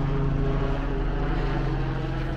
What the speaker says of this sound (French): Petits hélicoptères.